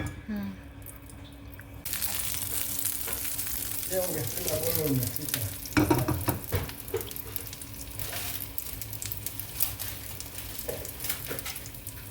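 A bajra dish shallow frying in ghee gives a steady sizzle that jumps when more ghee goes in, with clinks of a utensil against the pan and someone speaking over it.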